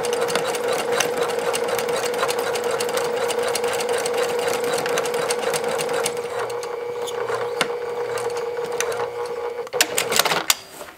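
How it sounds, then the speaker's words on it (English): Sewing machine running steadily as it stitches a skirt seam, a continuous close whirring hum that stops near the end and is followed by a few sharp clicks and clatters. "So we're going to sew down one side and down the other with about a 3/8 of an inch seam allowance on each side."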